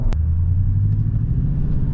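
A Toyota Tundra TRD Pro pickup truck drives along with a steady low engine and road rumble heard from inside the cab, loud and continuous, with a brief knock near the start.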